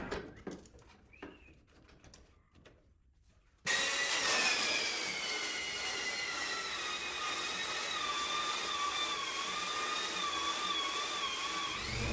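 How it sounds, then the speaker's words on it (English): A power sander working curved laminated wooden boat components: quiet scraping and bumps, then the tool starts abruptly and runs loud and steady with a high whine. "I have no space to flip the curved components over, so I get a bit creative to sand the backside."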